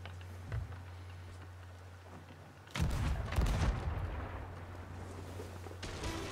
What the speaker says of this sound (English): if you guys want to shoot from the cannons